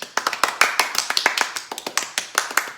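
Children in a kindergarten-to-second-grade music class clap their hands together to imitate loud rain, giving an irregular series of sharp, close claps that continue steadily with no talking.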